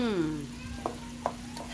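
Mushrooms and chicken fry in a pan with a soft sizzle while being stirred, a couple of quick utensil knocks and scrapes sounding close by.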